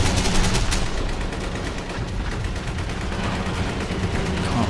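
Tank machine guns firing during a Men of War battle, a dense continuous clatter of automatic gunfire with overlapping bursts and distant battlefield noise, steady and loud throughout.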